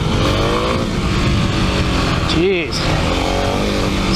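A Kawasaki KLX300 dirt bike on a trail ride at Highland Park Resort, its engine droning steadily up close under wind rush, with a brief dip midway and a short spoken exclamation.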